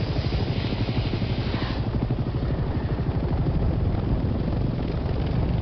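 A transport helicopter flying in the video game Hell Let Loose Vietnam, its rotor thumping in a fast, steady rhythm over a loud, continuous engine drone, close and unbroken throughout.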